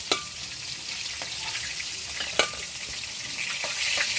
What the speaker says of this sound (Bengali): তারপরে চালটা সুন্দর করে এই পেঁয়াজ কাঁচামরিচের সাথে ভেজে নেব